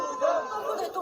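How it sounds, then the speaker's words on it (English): Animated crowd of protesters at a South Korean rally backing President Yoon Suk-yeol, a dense mass of overlapping voices and chatter swelling and dipping over a short stretch. "Very animated crowd."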